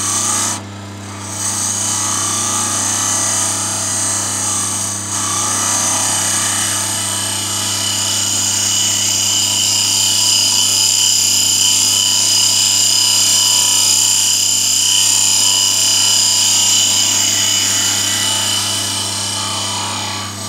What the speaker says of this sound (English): Try and do a complete smooth tool run down there to make it all smoothed off